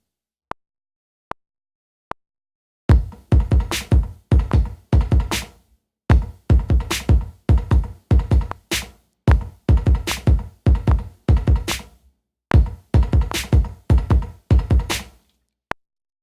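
A drum kit plays a beat as straight sixteenth notes, with a few sparse count-in clicks first and then a steady, close, dry groove of kicks, snares and hi-hats in repeating bars.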